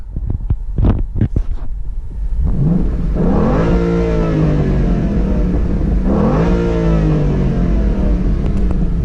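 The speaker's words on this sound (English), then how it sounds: "we're gonna rev it up a little bit" A 2011 Mustang GT 5.0 V8 engine idles, then revs up twice in long rising and falling roars, loud and close, with a steady rumble between.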